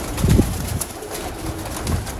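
Domestic pigeons kept for sale coo in a loft, a couple of soft low throaty calls close by with quieter background calls, no voices.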